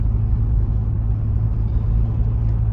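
A car driving along a road produces a steady low engine rumble and tyre drone, close and even throughout, with no talking.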